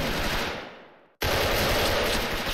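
Automatic M16A2 rifle fire in the shooter game SF, a loud, dense, sustained burst that fades, cuts out briefly, then resumes at full intensity.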